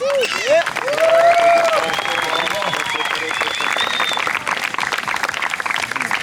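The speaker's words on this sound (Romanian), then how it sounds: "Aplauze pentru Vlad!" An outdoor crowd applauds at the award ceremony of the 2016 Mogoșa Downhill Challenge mountain bike race, dense clapping with whistles and cheers running steadily from start to finish, a voice talking briefly through it.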